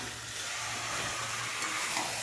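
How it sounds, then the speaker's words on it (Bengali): Meat fries and is stirred in a pan, with a soft, steady sizzle and hiss that grows slightly louder toward the end, with no talk. "মাংস রান্না করছি"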